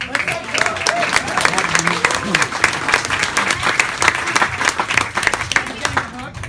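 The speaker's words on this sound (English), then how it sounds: "let's give her a round of applause" Applause from an audience at a talk on women's rights, a dense sustained clatter of many hands clapping throughout, with voices mixed in underneath.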